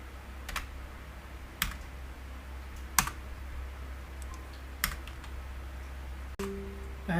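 Sparse keystrokes on a computer keyboard while entering Java code, a handful of separate, faint clicks spaced about a second apart over a low steady hum.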